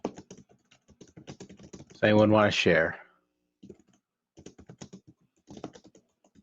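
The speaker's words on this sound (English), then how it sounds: "I hear ferocious typing." Rapid clicky typing on a computer keyboard, quiet bursts of keystrokes before and after a person briefly speaks.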